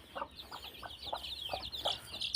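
A mother hen with chicks clucks in short, repeated bursts at a steady pace, with faint high chick chirps and farmyard noise behind.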